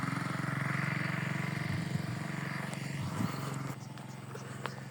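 A motorcycle engine labours uphill on a hilly road through banana and bamboo groves in Bandarban, Bangladesh, giving a steady, close, low droning rumble that holds throughout.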